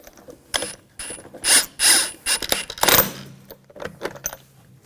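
Ratchet tightening wheel lug bolts on a 2000-2006 BMW X5, a series of close, sharp clicking pawl runs in short bursts, loud and alone.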